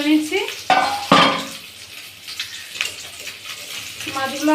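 Pieces of boal fish fry in a pan with a low, steady sizzle. Sharp clinks and scrapes of utensils against cookware break in, and someone talks over parts of it.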